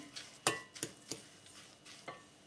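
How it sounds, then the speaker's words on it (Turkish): A fork mashes oil, egg and semolina in a bowl, giving a handful of sharp clinks and scrapes against the bowl at irregular intervals, close and fairly quiet with no talk. "Şimdi bir çatal yardımıyla şöyle güzelce ezdireceğim."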